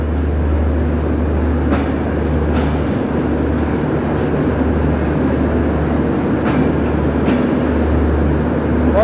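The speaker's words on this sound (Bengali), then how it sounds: "পঞ্চগড় এক্সপ্রেস ট্রেনের শেষ বগি যাচ্ছে কমলাপুর রেল স্টেশন থেকে বেরিয়ে যাচ্ছে" The last coach of the Panchagarh Express pulls out of Kamalapur railway station, producing a loud, continuous rumble of wheels on track with periodic clicks and knocks and no voices.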